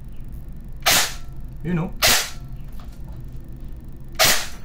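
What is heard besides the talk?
Daniel Defense MK18 airsoft electric gun firing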